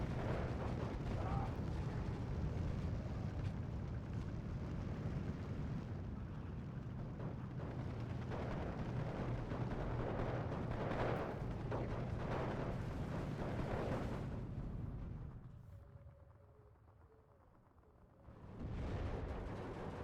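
Nebelwerfer rocket artillery barrage in the WWII strategy game Steel Division 2, a dense, loud rumble of overlapping explosions and booms that drops away briefly before resuming.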